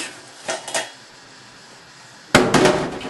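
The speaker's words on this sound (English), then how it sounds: "So we take the pan and the strainer" A metal pan and strainer handled in a kitchen for rinsing rice, two light clinks early on, a quiet pause, then a louder clatter of metal knocking together.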